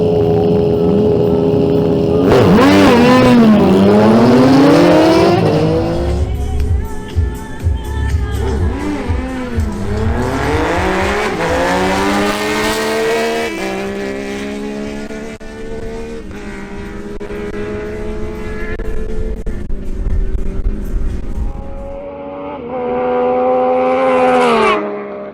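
A Yamaha MT-09 and a Suzuki Bandit 650 go head to head in a motorcycle drag race. Loud, close engines scream through rising revs and gear shifts, fade as the bikes pull away, then a high whine swells again at the end.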